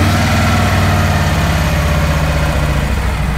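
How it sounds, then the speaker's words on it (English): Harley-Davidson motorcycle engine running at idle, a steady low throbbing rumble that holds evenly and loudly close by, with no talking. "we're going to go ahead and hit the right indicator once, and the bike is going to start up"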